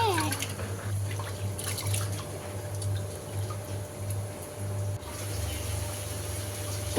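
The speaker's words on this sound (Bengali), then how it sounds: "চালটা এখন ধুয়ে এরপর বসিয়ে দিব" Soaked rice is washed in water, with close sloshing and trickling and a steady low hum running underneath.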